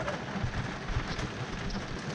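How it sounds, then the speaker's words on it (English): Hail pelting a canoe and the surrounding ground during a downpour on an Algonquin river, a dense, steady patter of small ice pellets heard fairly faint and alone, with no talk. "It's actually hailing now."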